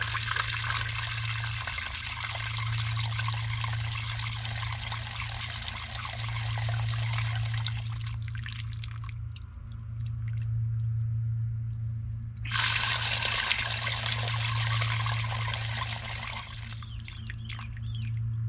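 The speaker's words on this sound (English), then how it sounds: "you'll see probably the sludge come out of the pipe here when I turn the water on." Water rushing through a clogged air-conditioning condensate drain pipe, flushing sludge out in a steady, close pour with a brief lull in the middle.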